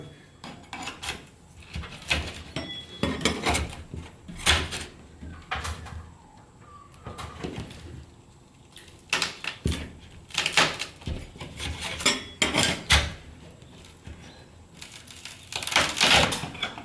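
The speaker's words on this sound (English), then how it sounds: "get another blade in, and then we're going to slowly start prying down until it starts to give way" Scraping blades pry a ceiling rose away from the ceiling, giving a series of sharp scrapes, creaks and knocks in irregular bursts, fairly close and moderately loud with quiet gaps between.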